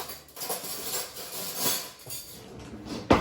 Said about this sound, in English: just kind of do a little bit of stirring here just to get things kind of moving around